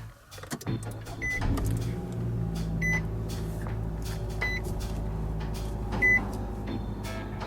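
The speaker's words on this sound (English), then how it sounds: "Let's go ahead and start this thing up and see how it sounds." A 2015 Nissan Rogue engine catches on push-button start and settles into a steady low idle, with a short electronic chime sounding three times at even intervals over the hum.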